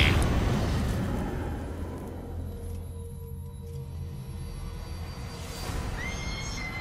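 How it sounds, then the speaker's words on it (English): A horse neighs in the video game Metal Gear Solid V: The Phantom Pain, a drawn-out whinny rising over a steady, dense game ambience, with a fainter second call near the end. "What's with the horse?"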